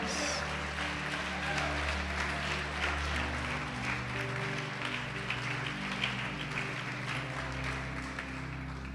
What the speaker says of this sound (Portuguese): vamos aplaudir, glorificar a Deus